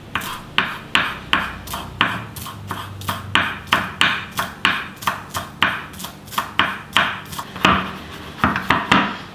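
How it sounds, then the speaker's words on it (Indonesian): A knife finely chops celery leaves on a board in quick, regular, close, loud strikes, about two or three per second, with short pauses and a faster flurry near the end, and no talking. "Ada daun seledri 3 batang, kita potong halus."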